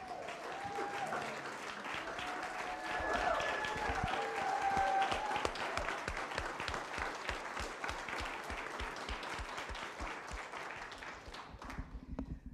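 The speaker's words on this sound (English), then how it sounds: "they deserve another round of applause" Sustained audience applause from a congregation at a Sunday church service, many hands clapping steadily for about twelve seconds before it fades out.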